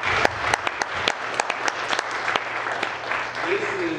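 An audience at a talk applauds a performance artist and poet, with a few sharp individual claps standing out over a lighter crowd clap and a voice rising at the end.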